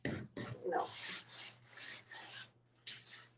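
Repeated rasping strokes of a wet sanding sponge scrub against painted furniture in a steady back-and-forth rhythm, close by, with no speech.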